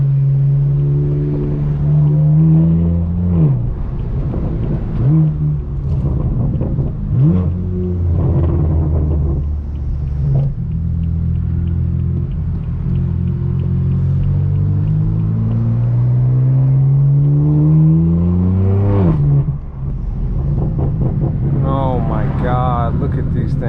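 Straight-piped BMW M4 F82 exhaust booming loudly from inside the car, with repeated rev rises and gear-change dips over a constant low rumble, voices talking over it.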